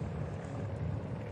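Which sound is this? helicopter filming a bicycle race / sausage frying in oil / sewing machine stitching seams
helicopter filming a bicycle race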